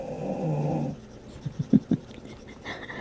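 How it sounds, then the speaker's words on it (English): A dog breathes noisily in its sleep, a few short snorting snore pulses close to the microphone after a softer steady tone fades, fairly quiet overall. "I can't stop laughing at how loud my dog is snoring."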